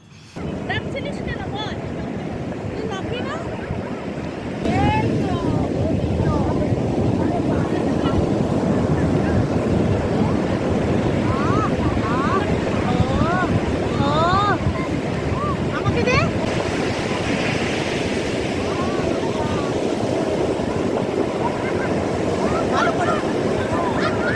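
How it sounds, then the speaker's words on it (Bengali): Steady roar of sea waves at Puri breaking and washing in, loud and continuous, with wind buffeting the microphone throughout. "সমুদ্রের কাছে এসে সমুদ্রের গর্জনটা শুনতে খুবই ভালো লাগে"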